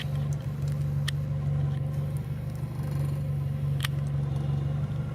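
A Nissan SR20DE engine idles smoothly with a steady, even low hum that holds constant throughout, heard close with a couple of faint ticks and no voices over it.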